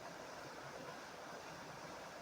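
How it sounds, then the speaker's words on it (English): A small waterfall flowing outdoors, a steady broadband rush of falling water heard from some distance, constant and unbroken with no voices. "waterfall-y kind of thing"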